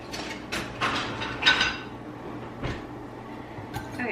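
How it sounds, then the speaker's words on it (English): Whisk mashing a ripe banana in a bowl in a home kitchen, a few soft scraping and clinking strokes against the bowl, close up with no talking. "I'm using my whisk to mash this guy up."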